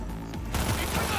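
Gunfire from Cyberpunk 2077 gameplay, quiet at first, then a dense burst of rapid shots and explosive rattle filling the second half, loud and continuous.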